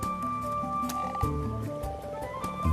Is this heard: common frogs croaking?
yes